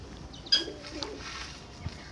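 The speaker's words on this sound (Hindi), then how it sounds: "ये देखो जी माशाल्लाह अपने एक कबूतर बैठे हुए हैं, ये सारे उड़ने वाले हैं बस ये वाइट को छोड़ के।" Pigeons on a house rooftop give soft, low coos at a distance, with a brief sharper call or wing flutter near the start, over faint outdoor background noise.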